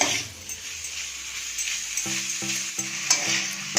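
Chicken cooking in a pan over a medium flame for a spicy egg chicken roll, giving a steady close sizzle with stirring scrapes and a few soft clinks of the utensil against the pan.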